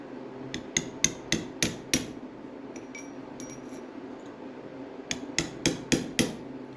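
A hammer strikes a chisel to tap a clip onto a Triumph TR6 gearbox, two bursts of five sharp metallic knocks in quick rhythm with quiet, faint tinkering between them.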